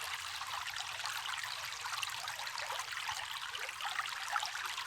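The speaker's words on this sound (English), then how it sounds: "let's keep adding some material just to see how this sluice performs with more material in here" Water carrying glacial gravel rushes through a stream sluice, a continuous soft gurgling trickle at low level with faint grainy rattles.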